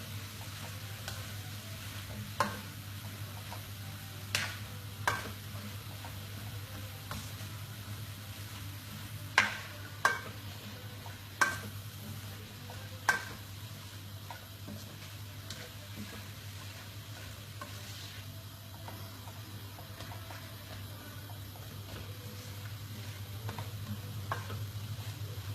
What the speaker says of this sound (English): And then I've got 2 peppers, which are seeded and chopped. And just brown that off as well.